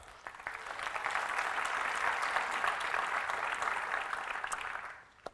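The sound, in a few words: conference audience applause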